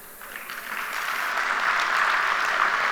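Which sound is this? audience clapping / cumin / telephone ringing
audience clapping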